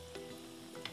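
Hotdogs frying in a pan, a faint continuous sizzle with a couple of soft crackles over a short moment, no talking.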